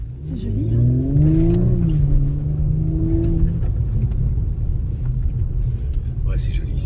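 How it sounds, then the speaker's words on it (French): An Audi S5 Sportback engine revs and rumbles close by, rising in pitch then settling into a steady drone, with people talking over it. "ils entendent le bruit de la voiture"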